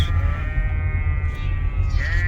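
Sheep bleat loudly nearby in Norway over a low rumbling engine, with wavering cries rising at the start and again near the end.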